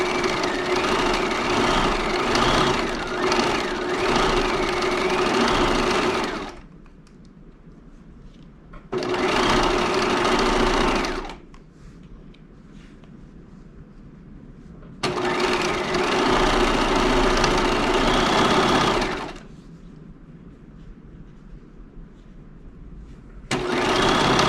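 A sewing machine stitches fabric pieces right sides together at a regular stitch length with backstitching, running in three loud, steady bursts of several seconds each, separated by quieter pauses.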